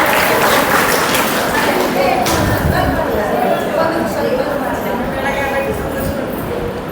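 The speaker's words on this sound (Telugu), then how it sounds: "ఈ అక్కయ్య కోసం క్లాప్ కొట్టండి." Audience applause and clapping at a spiritual talk, a steady, dense wash of many hands that carries on throughout without easing off.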